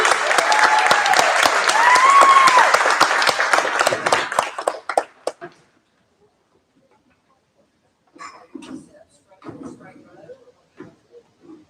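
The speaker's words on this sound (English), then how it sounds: "You can clap for them." Audience applause for a saxophone quartet at an intermediate school band spring concert, dense steady clapping for about five seconds before fading, then a few scattered sounds and quiet murmur.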